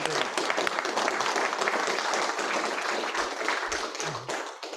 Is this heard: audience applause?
yes